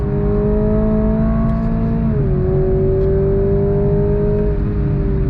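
A 2022 Toyota Supra 2.0 engine pulls hard on track, its loud, steady drone climbing in pitch, dipping sharply at one gear change, then rising again, heard close up with no voices.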